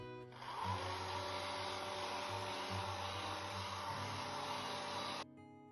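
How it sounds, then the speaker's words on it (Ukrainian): A hair dryer blows with a steady whirring hum, fairly quiet and continuous, then cuts off near the end, drying paint on a T-shirt. "Для швидкої просушки можна використовувати ще фен."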